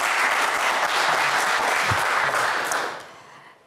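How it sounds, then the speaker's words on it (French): A television game show studio audience applauds loudly and evenly, the clapping dense and sustained before tapering off quickly at the end. "On vous applaudit très fort."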